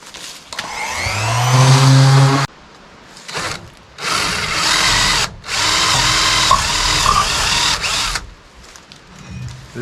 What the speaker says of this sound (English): and then we can drill some holes